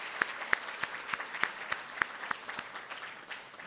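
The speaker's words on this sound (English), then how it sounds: "Let's give them a round of applause." Audience at a Broadway tribute evening gives a round of applause: scattered, distinct hand claps in a loose rhythm, fairly quiet and distant, tapering off toward the end with no talking.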